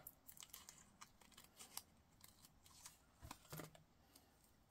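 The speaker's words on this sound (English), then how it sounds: "so we're going to cut this." Scissors snip through a paper craft piece in quiet, close, rapid cuts, a few slightly louder snips near the end, with no talking.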